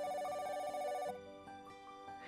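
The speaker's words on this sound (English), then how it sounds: "You can hear the sound of the phone ringing." A mobile phone rings while placed inside an open tumbler, giving a loud, bright electronic ringtone with steady tonal bursts that drop in level partway through, then continue more quietly.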